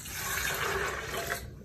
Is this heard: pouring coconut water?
yes